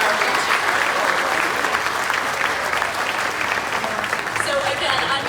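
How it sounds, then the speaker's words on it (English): A crowd at a charity zoo walk event for dystonia in Pittsburgh gives steady, loud applause for the sponsors, a sustained wash of many hands clapping together. "I think it's important to give them a round of applause"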